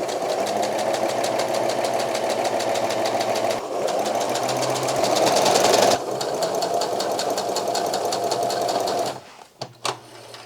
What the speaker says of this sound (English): I'm going to do 2 basting stitches all the way down.